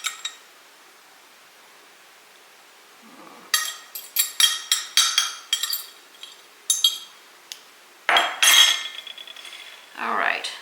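Metal utensil clinking and scraping against a glass jar of thick marinade-topped taco filling, a run of sharp, bright taps and rattles in bursts with short pauses between, close and fairly loud.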